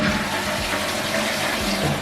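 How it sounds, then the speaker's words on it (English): Toilet flushing in a luxury hotel bathroom, a steady close rush of water pouring and swirling without a break, with no talking over it. "I always test, like in bathrooms, by the way, I always test the flushing power"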